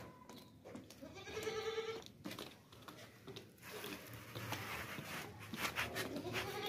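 A tall, well-bred goat bleating several times in a farm pen, fairly near, with rustling and faint mechanical clatter around it.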